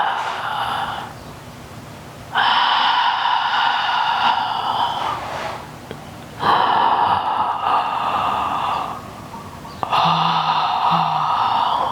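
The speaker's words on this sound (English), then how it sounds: "I'm going to start on the inhale and then exhale." Slow, deep yoga breaths, long inhales and exhales through the nose, come close and loud in three extended bursts with quiet pauses between them, with no talking.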